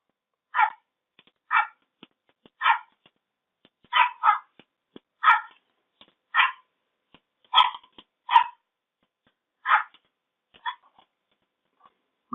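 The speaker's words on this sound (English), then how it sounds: "an angry dog" An angry dog sound effect for a Scratch coding project: about a dozen sharp, separate barks come in an uneven rhythm, clear and close, with silence between them.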